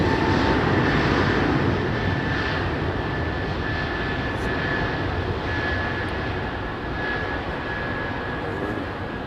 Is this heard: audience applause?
no